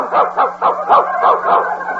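A dog, called for with a box of dog biscuits in a radio comedy sketch, gives a quick run of about six yapping, whimpering barks in a steady rhythm, close and fairly loud.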